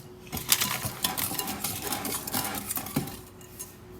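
Sugar and eggs are mixed for muffin batter in a bowl, a quick run of clinking whisk or spoon strikes against the bowl that tapers off toward the end, no talking.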